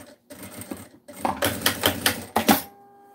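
A sewing machine stitches a seam closed on a fabric cutlery holder: short bursts of rapid mechanical clatter, loud and close, with a brief pause before a longer run that stops abruptly.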